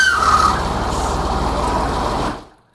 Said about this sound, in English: so when revving and blowing the whistle, you get a sound like this